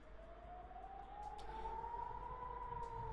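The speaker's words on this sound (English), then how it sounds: "we're hearing more air raid alerts, or air raid sirens being sounded across these cameras here in Israel." An air raid siren sounds across Israel, a faint, distant wail rising slowly in pitch and holding steady over low background rumble.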